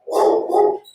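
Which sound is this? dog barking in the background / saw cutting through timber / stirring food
dog barking in the background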